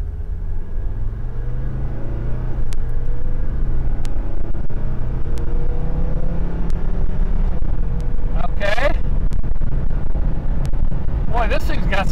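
A Mercedes W123 300DT diesel with an automatic transmission accelerates from a dead stop, its loud engine rumble climbing through shifts, heard from inside the car with people talking over it.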